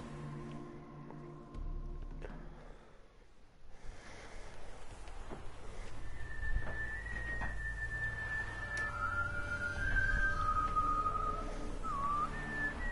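A character whistles a wavering melodic tune in the video game The Witcher 3: Hearts of Stone, moderately loud and alone over a low rumbling ambient background.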